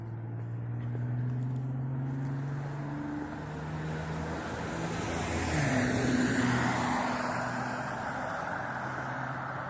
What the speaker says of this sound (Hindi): सॉरी, गाड़ी की आवाज़ की वजह से थोड़ा सा खामोश हो गया।